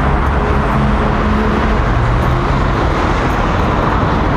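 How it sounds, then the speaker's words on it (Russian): A green city bus rolls past in loud street traffic, a dense steady engine roar and road noise close by. "автобус зелененький, веселенький."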